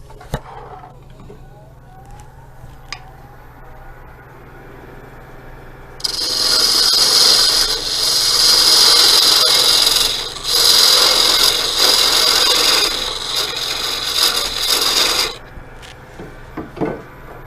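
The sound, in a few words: wood being turned on Rikon lathe, squaring off the end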